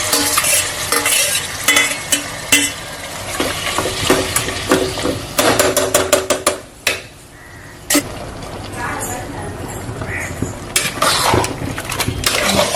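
Marinated mutton stirred with a ladle as it fries in oil, a steady sizzle broken by repeated scraping and clanking strokes against the pan, loud and close, with a brief pause partway through.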